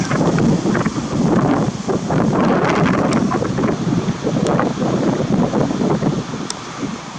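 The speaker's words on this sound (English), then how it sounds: "Crazy wind." Strong evening wind in Middletown, New Jersey buffets the microphone in a loud, continuous roar with gusty surges, and no other sound is heard.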